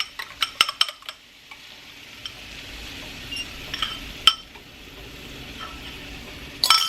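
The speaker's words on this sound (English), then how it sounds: "And then I'm just gonna scramble these together." Eggs scrambled together with sausage and onions in a pan, a utensil clinking and scraping against the pan in short irregular taps over a faint sizzle.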